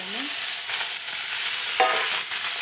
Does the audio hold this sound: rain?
no